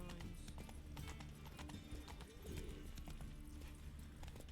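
Roach, Geralt's horse in The Witcher 3, gallops with a rapid, steady clip-clop of hooves, loud and close, with faint game ambience behind.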